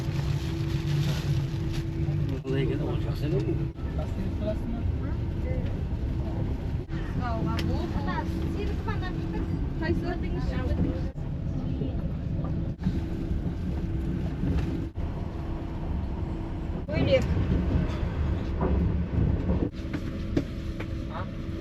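Steady rumbling interior noise of a moving train carriage without air conditioning, a constant low drone with faint clanks, and people talking quietly throughout.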